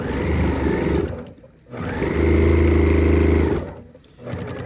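A sewing machine runs in steady whirring bursts while stitching a placemat into a boxed bag, pausing briefly twice between runs of stitching, close and loud.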